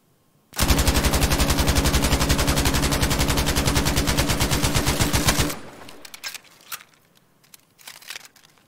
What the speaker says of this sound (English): So here's the MG34 sound.